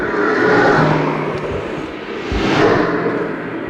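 Recorded street traffic plays inside a dark interactive sound installation. Loud cars swell and roar past one after another in overlapping whooshes, with no talking.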